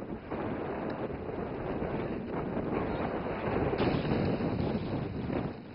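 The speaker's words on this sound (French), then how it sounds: "Le vent se lève et la température dégringole." Wind rises over Lake Jingpo in China, making a steady, muffled roar of gusts against the microphone at moderate level for several seconds, with no voices.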